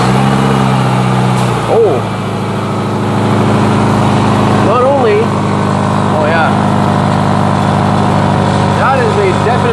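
A Subaru with an exhaust leak runs at a steady loud idle after starting, its rumble continuing under brief exclamations from people nearby.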